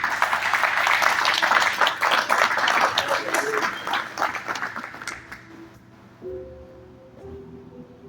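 A church congregation breaks into sustained applause. The dense clapping fills the first five seconds and then thins out, and voices and some tonal sound come through near the end.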